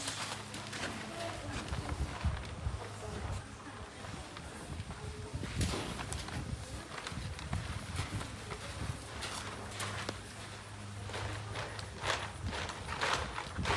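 Faint, steady clopping of horse hooves walking on ground in a round pen, continuing throughout at a moderate distance with low background noise.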